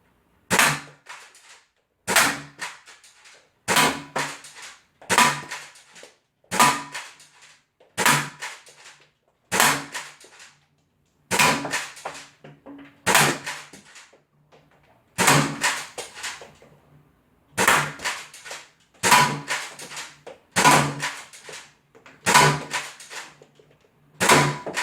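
Foam darts fired from a dart blaster at a target: about fifteen sharp snapping shots spaced roughly every one to two seconds, each a crisp close crack with a short tail, no voices.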